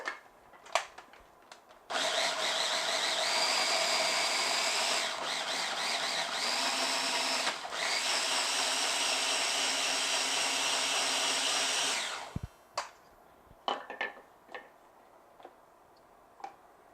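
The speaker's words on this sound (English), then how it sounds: "Got our mini food processor here." A mini food processor whirs loudly and steadily for about ten seconds, its pitch dipping briefly midway, between scattered clicks and knocks of handling before and after, close by and without talk.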